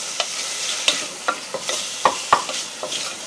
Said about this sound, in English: So I'm going to fry this up here for a second